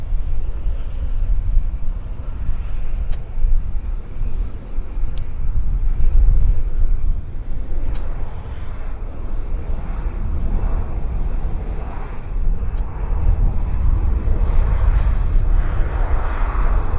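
A WestJet airliner inbound from Calgary moves at Vancouver Airport, a loud continuous low roar of jet engines with rumble and wind buffeting, steady for the whole stretch.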